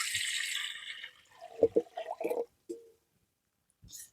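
Water pours into a cooking pot for boiling sago for festival payasam, a steady close splash for about a second that fades into a few soft knocks and clatters of the vessel.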